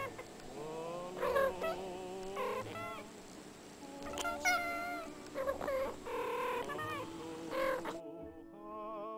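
A cat meows repeatedly in varied, drawn-out calls, close and moderately loud, with short pauses between, ending abruptly.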